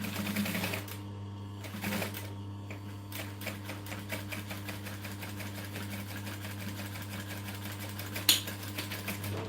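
A sewing machine stitches an accent panel on a business bag with a steady close mechanical hum and rapid needle ticking, briefly pausing before running on continuously, with a faint click near the end.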